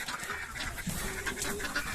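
Chickens clucking and squawking nearby in a flurry of honk-like calls as hens chase a young rooster, fairly faint and continuous, with no speech.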